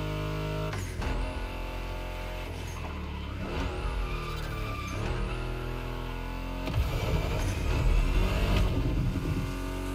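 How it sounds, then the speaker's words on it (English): A loud Mustang GT muscle car engine in a racing video game revs and roars continuously, rising and falling in pitch through gear changes, with the whine swelling again toward the end. "My mixtape we're listening to meshes well with the sound of the engines"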